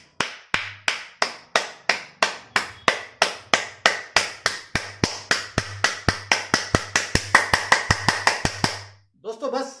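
Bare hands clapping in an even rhythm about thirty times, the claps growing faster and harder toward the end before stopping abruptly, close and sharp.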